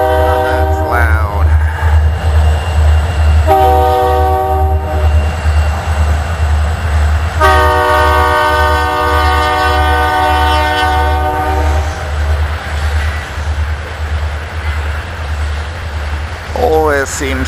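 A freight train of tankers passes on a small railway line along the edge of a field, a loud steady rumble with several long blasts of its multi-tone horn, the last one rising again near the end.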